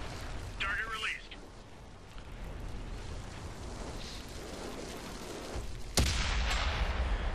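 A tank cannon fires in World of Tanks from a tier 5 Japanese Chi-Nu Kai, one sharp loud blast near the end after stretches of engine rumble and a brief voice.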